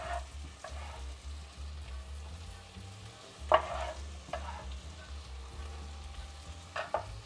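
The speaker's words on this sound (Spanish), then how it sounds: "ahora que la cebolla ya está bien transparente, ya está bien pochadita, vamos a agregar el tomate" Onion and tomato sizzle steadily in a pan as the base for a chicken stew, with a low hum underneath and occasional scraping stirs from a utensil.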